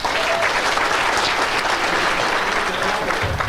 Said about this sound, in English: Let's have a big round of applause for Mr. Jerry Patterson